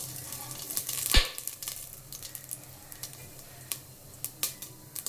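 Cumin, mustard seeds and dried chillies hit hot oil with one sharp crackle, then settle into a soft, steady sizzle broken by scattered small pops and ticks.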